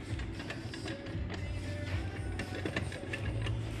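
An Arctic Cat 700 diesel quad bike with a bad wheel bearing makes a rough, rumbling grind with irregular clicks and knocks, continuous and moderately close.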